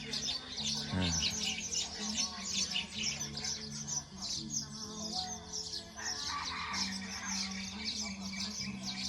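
A bird calls loudly from its nest in a garden, giving repeated bright chirps and squawks that carry through the whole stretch, close and insistent, with a low steady hum beneath.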